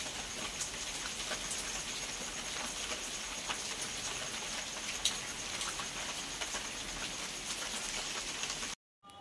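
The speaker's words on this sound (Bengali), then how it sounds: "এই দেখো বৃষ্টি হচ্ছে," Rain falls steadily outdoors as an even, soft patter, constant and fairly faint, ending in an abrupt brief cut.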